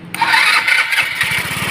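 A Rusi Gala Sporty motorcycle, freshly repaired, starts on the first attempt and settles into a steady, close, fairly loud idle with a quick low putter.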